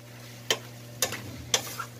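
A utensil stirs string beans sautéed with ground pork and oyster sauce in a pan, making three soft scraping strokes about half a second apart over a faint sizzle and a steady low hum.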